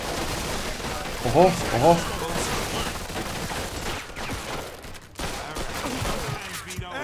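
Rapid gunfire crackles through a shootout in the Mafia II video game, dense overlapping shots for several seconds with a brief lull near the end, while someone talks and makes short exclamations over the shooting.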